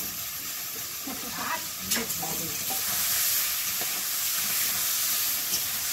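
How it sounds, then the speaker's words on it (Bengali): Oil sizzles steadily in a wok, a constant bright hiss with a few scraping stirs and clatters early on. "কড়াইয়ে তেল দিয়ে দেবো।"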